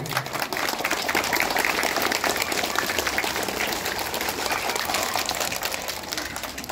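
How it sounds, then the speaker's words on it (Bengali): Sustained, dense applause from a large crowd at a school event honouring teaching staff, steady and fairly loud throughout with no pause. "একটা জোরে হাততালি হবে"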